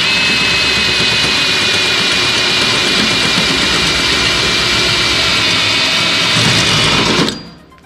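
A drill cutting out a spot weld on the core support of a BMW E30 makes a loud, steady, close whining roar that holds for about seven seconds, then cuts off sharply into quiet.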